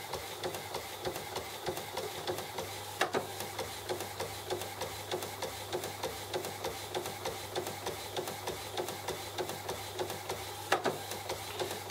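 An Epson WF-7210DTW inkjet printer fitted with a continuous ink system prints slowly on matte paper after new cartridges, its steady mechanical whir broken by regular clicks and two sharper clacks, close and alone.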